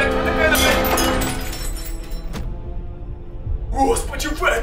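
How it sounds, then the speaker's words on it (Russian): A small glass cup shatters indoors with a sharp crash and scattered tinkling fragments, while a person talks loudly over much of it. "я еле-еле коснулся куклы, а уже весь стаканчик разлетелся"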